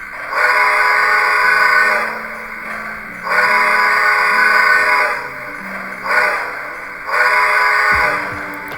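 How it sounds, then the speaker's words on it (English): A Lionel Polar Express toy train whistle sounds in four loud, steady blasts, the first two long and the last two shorter, separated by brief pauses. "Let's hear the whistle. Let's see what that sounds like."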